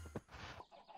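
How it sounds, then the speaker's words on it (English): Chickens cluck in the Minecraft video game, a brief burst of short, close clucks over about a second with no talking. "Oh my god, the amount of chickens."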